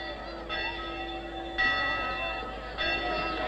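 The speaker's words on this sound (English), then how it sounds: "The chapel bells are the signal!" Chapel bells peal out as a starting signal, sustained ringing tones swelling in waves with fresh strikes roughly every second or so, fairly loud and clear with no talk over them.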